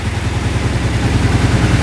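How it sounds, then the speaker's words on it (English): A UTV engine idles steadily at close range after its airbox was refitted, a constant low rhythmic chugging with an even pulse and no breaks in the sound. "Now it's idling."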